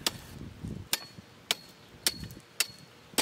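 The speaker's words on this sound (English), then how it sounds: "I give the gravel a good tamp down" Gravel being tamped down for a riding-mower shed ramp: four sharp, evenly spaced impacts about every half second, each a crisp close thud with some crunch, no talk.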